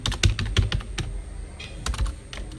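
Rapid typing on a computer keyboard while debit card details go into an online payment form: an irregular run of close, crisp key clicks with brief pauses and a few louder presses, with no voices.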